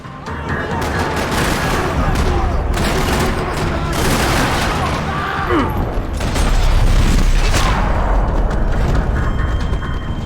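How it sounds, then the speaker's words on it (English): Dense bursts of rapid gunfire crackle continuously in the video game Max Payne 3, in a parking lot shootout, with sharp shots layered over a busy, noisy mix of action sounds. "Another parking lot rattling with gunfire."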